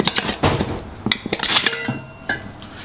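A metal tire spoon levering a motorcycle tire off its rim, giving a string of sharp, close metallic clinks and scrapes in irregular bursts, with quieter gaps between.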